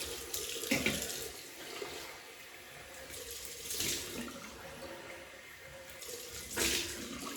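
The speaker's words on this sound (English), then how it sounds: "Cold water rinse." Tap water runs steadily into a sink for a cold water rinse after shaving, with a few louder splashing surges as hands or objects pass under the stream.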